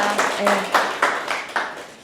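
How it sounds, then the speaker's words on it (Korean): A short burst of clapping from a small group, loud and close, with rhythmic hand claps trailing off after about two seconds. "박수 한번 주세요"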